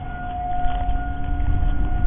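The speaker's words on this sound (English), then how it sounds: "We have sirens testing, and my dog doesn't like them." Civil defense sirens sound during a test, a steady distant tone holding under a low rumbling outdoor background for the whole stretch.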